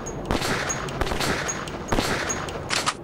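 Rapid gunfire from the first-person shooter Metro 2033: a handful of sharp bursts roughly a second apart, over a steady bed of in-game ambience, with no talking.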